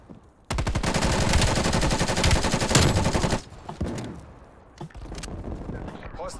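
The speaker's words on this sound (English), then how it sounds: "Hostile sentry turret active." A hostile sentry turret in a video game fires a long, continuous machine-gun burst, loud and close, then cuts off, leaving quieter scattered shots and noises.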